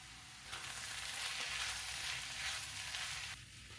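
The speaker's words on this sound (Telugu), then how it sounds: "ఈ కొబ్బరిని కూడా ఒక రెండు నిమిషాల పాటు వేయించుకుందాం" Cabbage, peas and grated coconut fry in a pan on low flame, a steady close hiss of sizzling that swells for a few seconds and then eases back to a quieter simmer.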